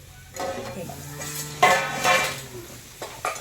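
A spoon stirs a potato and eggplant curry in a pot, giving several close scraping and clattering strokes with brief sizzling between them.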